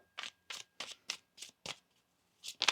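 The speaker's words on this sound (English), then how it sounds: "One more shuffle here." Tarot cards riffle-shuffled by hand in six quick, close bursts at a steady rhythm, followed by a brief pause and two more riffles, with no talking.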